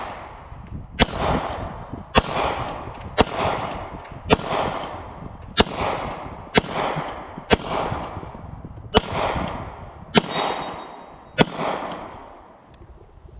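A Smith & Wesson SD40 VE pistol emptying a magazine, with eleven loud shots at an even pace about one second apart, each with a trailing echo that suggests an outdoor range.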